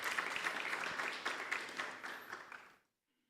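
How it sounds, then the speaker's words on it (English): Audience applause for a brigadier speaker at a campus safety launch event: a dense, steady burst of many hands clapping that fades out and stops near the end, leaving silence. "Let us give Brigadier Josephs another round of applause"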